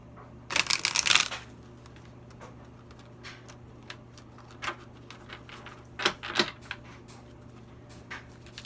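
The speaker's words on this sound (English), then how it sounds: "Give the cards a really good shuffle." A burst of tarot cards being shuffled up close, a rapid riffling flutter, followed by softer scattered taps and shuffles.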